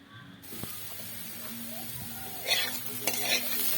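Bitter gourd and potato stir-fried in a pan, a steady soft sizzle with scraping stirs and a couple of sharper clinks of the spatula against the pan, close by and uninterrupted by talk.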